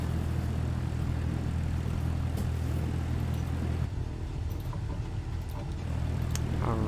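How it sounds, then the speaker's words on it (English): A plane taxies on a runway near Warsaw in Microsoft Flight Simulator 2020, with a steady, loud engine drone and rumble that holds throughout and shifts slightly partway through. "I'm just gonna taxi to the other end and take off from there"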